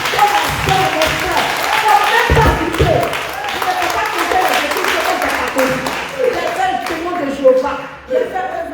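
Applause from a church congregation at a worship and testimony festival, dense clapping with scattered thumps running steadily throughout, with voices and cheering mixed in.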